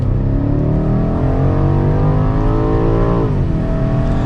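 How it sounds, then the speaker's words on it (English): A 2023 BMW X6 M Competition engine revs hard in automatic mode, pitch climbing steadily toward the rev limiter before a quick upshift drops it, loud and close with no talking. "So it really gets high in the rev limiter there, and I wasn't even half throttle there."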